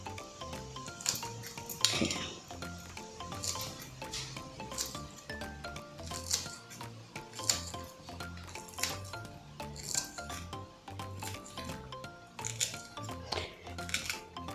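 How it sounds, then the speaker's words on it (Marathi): A knife chops green chillies on a board, giving a quick run of sharp, close taps and clicks in an uneven rhythm, with soft squishy cuts and small clinks between strokes. "आता मिरच्या चिरते."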